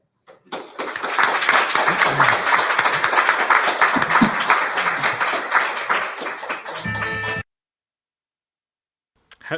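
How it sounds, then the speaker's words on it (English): Applause breaks out at the close of Robinhood's Q2 2025 earnings call, a dense burst of clapping lasting about six seconds before cutting off abruptly into silence. "Have you ever heard applause before at an earnings call?"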